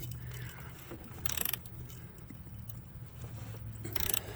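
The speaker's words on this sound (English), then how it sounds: "the top of these threads are rusty, and this makes it really hard to get the nut off because it's having to cut through all this rust and crud" A wrench working a rusty nut loose on the front shock of a 1994–2002 two-wheel-drive Dodge Ram, soft grinding and ratcheting clicks in quiet bursts, fairly faint and close, with no talking.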